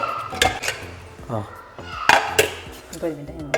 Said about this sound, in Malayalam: ഇനി നമ്മൾ പതുക്കെ കുക്കർ ഓപ്പൺ ചെയ്യാൻ പോവാണ്